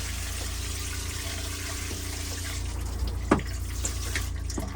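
Water running steadily from a shower in an RV bathroom, a constant hiss with a low hum beneath and a few faint knocks and clicks.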